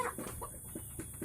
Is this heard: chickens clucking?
yes